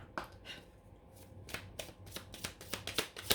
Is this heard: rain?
no